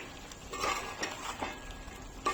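Chicken mixed with salt and spices for a Telangana-style chicken fry, a quiet close scraping and squelching in short uneven strokes, with a couple of faint utensil clinks.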